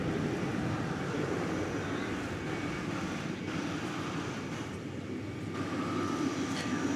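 A Delta Airbus A320 arriving from Minneapolis–St. Paul on approach to DFW Airport at night gives off a steady, moderately loud broadband jet roar that holds evenly throughout, with no talk over it.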